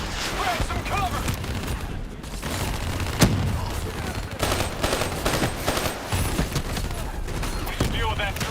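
Sustained automatic turret gunfire in Call of Duty: Black Ops 3, a dense rattling fusillade with a sharp crack near the middle, mixed with voices talking over the battle.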